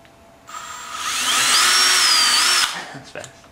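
A power drill bores a hole, its whine starting abruptly, rising in pitch as the bit spins up, then cutting off after about two seconds, followed by faint handling noises.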